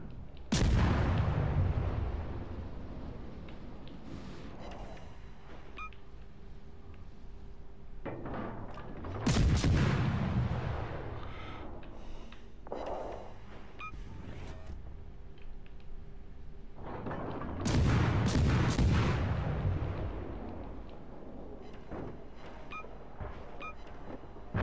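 Naval guns firing at an enemy ship in a warship video game, with heavy booming salvos in three big waves and rumbling explosions and scattered reports between them, loud and continuous.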